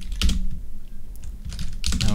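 A computer keyboard is pressed in a few short bursts of clicky keystrokes for a shortcut, close and crisp, with brief pauses between the taps.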